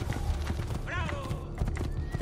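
Horse hooves clip-clop in Assassin's Creed II while the horse gives a short, bright neigh midway, with game voices and ambient noise around it.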